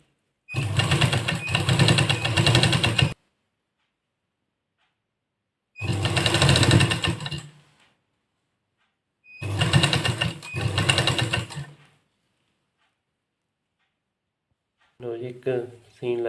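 Sewing machine stitching a decorative neckline design on a suit, running in several bursts of a few seconds each with quiet pauses between, ending with a brief snatch of talking.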